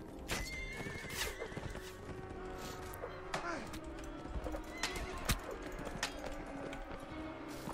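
Cavalry horses in the Mount and Blade Warband video game neigh and whinny repeatedly over a steady drumming of hooves, with clashing battle noises scattered through and a voice speaking faintly now and then.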